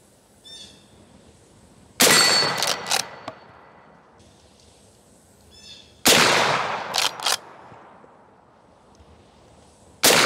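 A Winchester 1892 lever-action rifle in .44 Magnum fires at a jug target about 35 to 40 yards away, two loud sharp shots several seconds apart, each with a quick rattle and decaying echo in a quiet outdoor setting.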